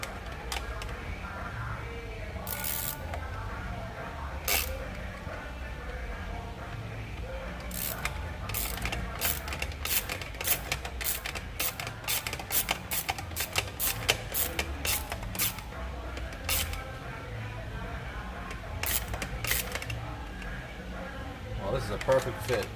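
A 3/4 ratchet with an extension tightens a bolt on a Draco CNC Warrior brace, making runs of rapid clicking pawl ratchets, sparse at first and then dense, close and distinct over low background noise.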